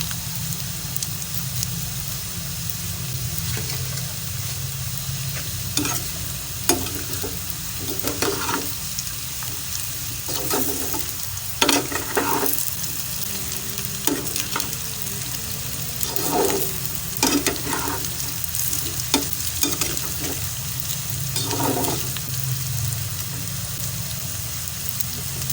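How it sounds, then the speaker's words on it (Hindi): Aloo arbi curry, potato and taro, stirred in a pan over a medium flame, with a steady sizzle and frying crackle and repeated spoon scrapes throughout. "चम्मच की मदद से आहिस्ता आहिस्ता हल्के हाथ से आपने आलू अरबी की सब्ज़ी को हिलाते जाना है।"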